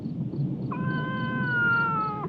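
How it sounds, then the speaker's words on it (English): A cat gives a single drawn-out meow that starts partway through and holds steady to the end, close and clear over a low murmur of room noise. "Cat."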